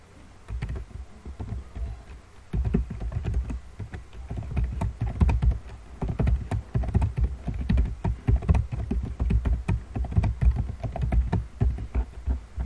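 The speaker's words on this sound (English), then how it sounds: "choose your text editor and type basic or default HTML" Rapid clattering keystrokes on a computer keyboard while basic HTML code is typed, an irregular stream of close, crisp taps that runs steadily the whole time with brief pauses.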